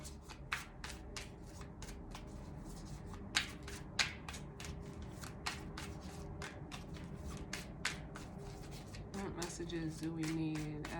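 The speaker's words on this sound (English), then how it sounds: "let me get the rest of the cards out" Tarot cards shuffled and handled close up, with quick repeated riffling bursts and soft slides of the deck, fairly quiet, and a voice heard now and then.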